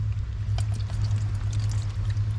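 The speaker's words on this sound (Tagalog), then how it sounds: "Lagyan natin ng tubig para uminit siya guys no." Water pours into a self-heating pack of ready-to-eat food at an outdoor family camping spot, a close steady splashing stream over a low humming background.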